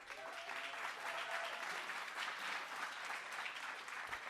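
Applause rings out from the audience at a city Economic Development Committee meeting, a continuous, fairly distant wash of clapping with an even level throughout and no voices standing out.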